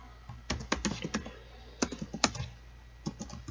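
Keys tapped on a computer keyboard while formatting in Microsoft Word 2016, a quiet run of irregular clicks in short bursts with a pause, one press landing on the tab key.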